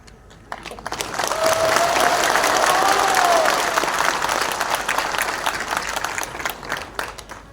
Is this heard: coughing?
no